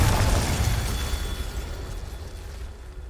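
A Confringo spell explosion in the video game Hogwarts Legacy: a loud, close blast with a heavy low-end boom that decays slowly over a few seconds into a fading rumble.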